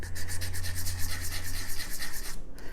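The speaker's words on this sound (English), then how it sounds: "take some sandpaper on a sanding stick and just smooth off the bottom edges" Rapid, steady back-and-forth rubbing of sandpaper on a sanding stick along metal earring edges, a fast even rhythm of scratchy strokes that stops abruptly near the end.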